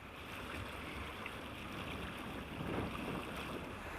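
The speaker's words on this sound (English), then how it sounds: "Just short, sharp little waves, and you just can't beat them." Short, sharp Irish Sea chop slaps steadily against the hull of a sailing boat under way, a continuous close wash of water with wind noise and no voices.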